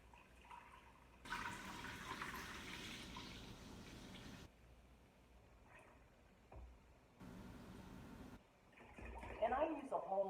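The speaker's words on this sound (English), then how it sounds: "we're going to pour our milk into the" Milk from a gallon jug is poured into an Instant Pot for homemade yogurt, a steady liquid splash and gurgle that comes in two sustained bursts, with quieter handling noises between them and a busier sloshing at the end.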